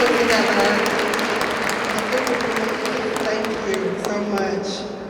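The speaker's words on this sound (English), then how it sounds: "Could you guys please give a round of applause for our Human Resources Department" Audience applause at a hall of fame ceremony honoring staff, a dense, steady wash of clapping filling the room that gradually tapers toward the end.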